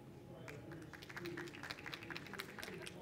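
An audience at a city-planning sustainability talk claps together briefly, a dense burst of close applause lasting a few seconds, with a faint voice mixed in.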